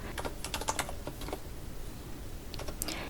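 Rapid typing on a computer keyboard while entering data in an Excel spreadsheet, with clusters of close, crisp keystrokes, a brief lull in the middle, then another quick flurry.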